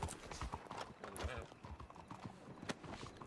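Hooves clip-clop rapidly as a horse gallops in a video game, with quick uneven strikes and a faint whinny, while a player talks over the action.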